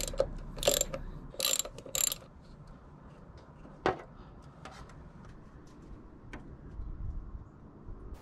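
Ratchet with a 5/8 socket cracking loose and spinning out the primary drain plug on a Harley-Davidson M8 Softail, three loud close bursts of clicking, then quieter scattered clicks and light metallic handling, with no speech.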